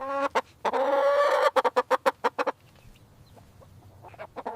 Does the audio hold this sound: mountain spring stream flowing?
no